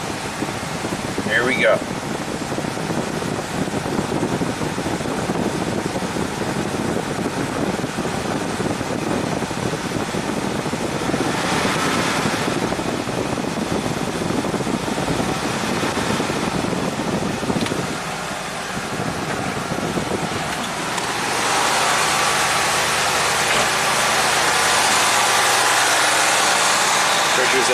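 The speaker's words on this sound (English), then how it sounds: "I heard the AC compressor kick on" A Cadillac Allante's engine idles with its AC compressor cycling on, a steady mechanical fan-and-engine drone whose tone shifts partway through, while a person speaks briefly over the hum.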